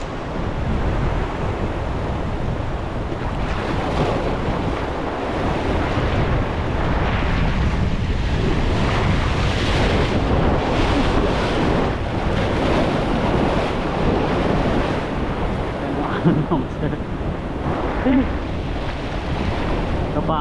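Ocean waves wash steadily against a rocky shore at low tide, a continuous broadband roar with wind buffeting the microphone throughout and no clear individual wave breaks standing out.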